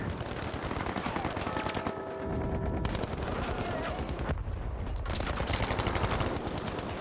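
Rapid hip-fire gunshots in a shooter game, dense bursts of automatic fire rattling in several long strings with brief pauses, loud and close, under a busy game mix.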